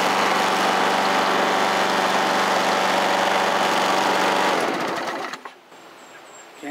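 An old chainsaw, started on a single pull, runs steadily at a loud, rough idle up close for several seconds before cutting off abruptly.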